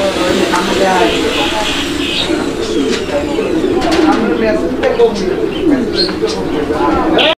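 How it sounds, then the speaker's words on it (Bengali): European pigeons cooing, with repeated soft throaty coos and rolling calls close by, with someone talking over them throughout. "দর্শক বন্ধুরা, আপনারা দেখতে পাচ্ছেন একদম উড়াদুরার ডাকের কবুতর"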